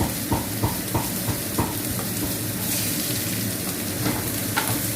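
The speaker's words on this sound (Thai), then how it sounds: "แล้วก็เจียวกระเทียม" Steady loud sizzling of garlic frying in hot oil in a tilted pan, with occasional pops and crackles throughout.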